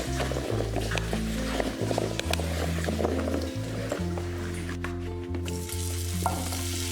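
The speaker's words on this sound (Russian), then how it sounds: "Обжариваем на растительном масле несколько минут до золотистой корочки." Vegetables sizzle and crackle steadily in hot vegetable oil, coated with starch and frying to a golden crust for a vegetable casserole, with occasional stirring scrapes and clinks throughout.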